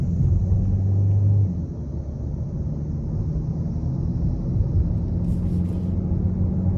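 A 2024 Hyundai Sonata Hybrid's 2.0-litre four-cylinder engine in Sport mode makes a loud, deep, steady drone from inside the cabin. It eases slightly after the first second and a half.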